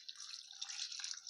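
Water pours steadily into a cooking pot of goat leg curry, a close, continuous splashing trickle with no talk.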